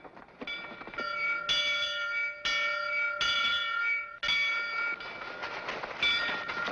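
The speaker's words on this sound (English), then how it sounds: "People usually head for the meeting house when the bell tolls, not run from it." Meeting house bell tolling in a pioneer-era setting, a series of loud metallic clangs with long ringing overtones, struck roughly every second and overlapping as each decays, with no talk over it.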